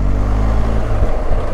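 A steady, low BMW R 1250 GS motorcycle engine drone with a harmonic hum, shifting pitch about two-thirds through, close and loud with no voices.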